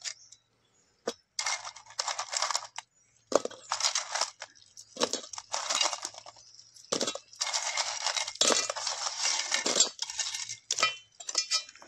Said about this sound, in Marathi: याच्यात आता कुर्ले खेकडे टाकून घेऊया.